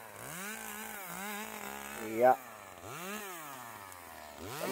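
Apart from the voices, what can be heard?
Echo CS2511 chainsaw engine running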